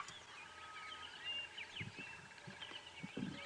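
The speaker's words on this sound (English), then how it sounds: "taking in the beautiful bird sounds, the sunrise" Birds sing and chirp at sunrise on a safari drive in the bush. The calls are faint and fairly distant, with repeated short chirps and whistles layered over quiet ambience.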